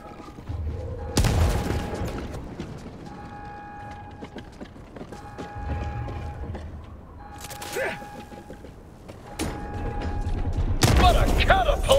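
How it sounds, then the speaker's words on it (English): Grenade explosions closing a bug hole in the video game Helldivers 2: several sharp booming blasts, one near the start and others later, amid mechanical clanks, whirring tones and gunfire, with brief voice lines in between. "use a grenade to close up that bug hole"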